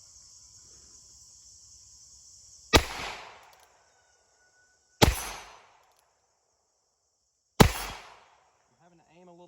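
Three sharp gunshots from a Heritage Barkeep .22 LR revolver at an outdoor range, spaced a couple of seconds apart, each a loud crack with a short decaying tail, over a steady insect drone.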